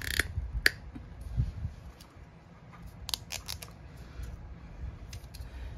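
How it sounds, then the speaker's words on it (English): Hand hole puncher driven through 4 to 5 ounce leather at a rivet hole during a holster build, giving several sharp close clicks and crunches with quieter mechanical rattles in between. "This is a hole puncher. Go right through that rivet hole and punch a hole."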